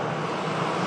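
Beech 200 small propeller plane taxiing at an airport, a steady broadband engine drone held at constant loudness throughout, fairly close with no voices.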